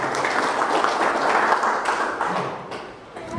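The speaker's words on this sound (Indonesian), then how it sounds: "Aplaus untuk kita semua." A seminar audience at a business talk bursts into applause, a dense, loud wash of many hands clapping close by that holds steady for about two and a half seconds, then thins and fades near the end.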